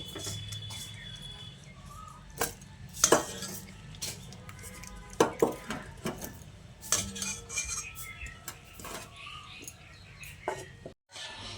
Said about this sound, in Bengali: এবার এই সয়াবিনটাকে ছেঁকে তুলে নিচ্ছি। তুলে একটা পাত্রের মধ্যে নিয়ে নিচ্ছি।